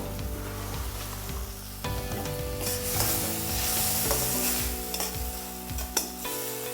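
Tomatoes fry in a pan for hotel-style sambar, giving a steady sizzle with occasional stirring scrapes, close and moderately loud under a melodic background tone.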